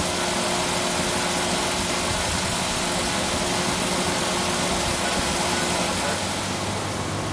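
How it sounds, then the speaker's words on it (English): A 1996 Ford Explorer idles with its AC compressor running, giving a steady, dense mechanical hum and whir that holds evenly and loud throughout with no gaps. "The compressor's running."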